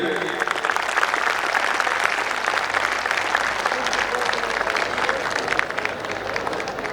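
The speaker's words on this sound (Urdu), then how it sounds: "اور جو مزید زندہ دل ہیں وہ زیادہ تالیاں بجائیے ذرا۔" Sustained applause from a large audience at a college annual dinner, steady loud clapping from many hands with crowd murmur underneath, continuing without a break.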